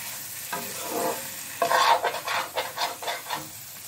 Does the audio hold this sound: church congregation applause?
no